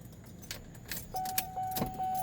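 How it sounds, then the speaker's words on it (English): Keys jingle and rattle in the ignition of a 1991 Cadillac Sedan Deville, a few soft close metallic clinks and a brief click, followed by a faint rising tone as the car switches on. "Let me turn the car on."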